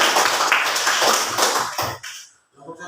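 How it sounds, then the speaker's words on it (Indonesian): A class claps for a student group, a short burst of quick, close handclaps that thins out and stops, followed by a brief pause and faint voices. "tepuk tangan dulu untuk kelompok 2"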